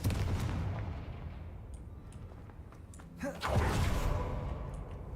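A Confringo blasting spell cast in Hogwarts Legacy bursts with a whooshing crackle and a heavy boom about midway, set against a rumbling fiery background.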